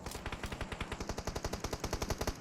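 Rapid automatic gunfire from the mobile battle royale game PUBG Mobile, a steady stream of loud, evenly spaced shots filling the whole stretch without pause and with no voices over it.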